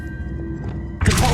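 A Levioso spell cast in Hogwarts Legacy lands as a sudden soft whoosh and thud about a second in, after a quiet low hum, brief and close.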